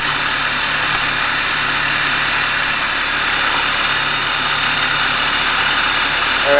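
A MINI's engine runs at a steady idle right after its coolant expansion tank was replaced, a constant close, even hum with no change in pace.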